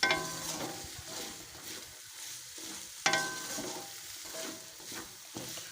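Mash daal frying with masala and finely chopped green chillies makes a continuous sizzle while it is stirred. Two sharper utensil clatters stand out, one at the start and one midway, and no one speaks.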